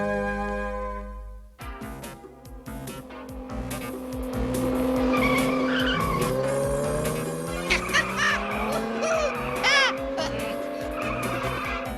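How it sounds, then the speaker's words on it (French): A cartoon car driven recklessly roars along with its engine revving while its tires squeal and skid repeatedly in long wailing bursts, loud and close, after a brief musical opening. "Tu vas arrêter cette voiture, Charlie."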